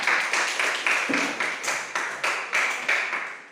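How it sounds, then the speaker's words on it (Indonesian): Students in a classroom clap for a classmate after a presentation; the clapping comes in short rhythmic bursts of roughly ten beats, close and fairly loud, with no talking over it. "Mulai tepuk tangan kepada teman kami."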